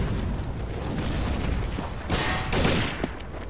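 A grenade explosion in the CS:GO video game: two broad booming blasts roll out over steady loud background noise, fairly near and heavy.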